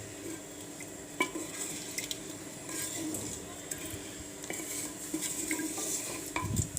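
A wooden spoon stirs chicken inside a clay pot, producing a continuous scraping, shuffling texture with occasional soft knocks against the pot, moderately close.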